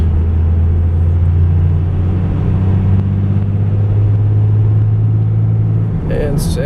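A 2002 Dodge Ram 2500 Cummins diesel 4x4 with a six-speed manual pulls steadily through the gears, a loud continuous low engine drone inside the cab, with a brief shift and a clunk near the end.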